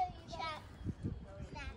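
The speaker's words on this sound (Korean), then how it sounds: "애기들 쫑알거리는 소리 너무 좋아" Small children chatter faintly in the distance during a spring cherry blossom walk in a New Zealand park, with short high-pitched bursts of young voices coming and going over a low outdoor rumble.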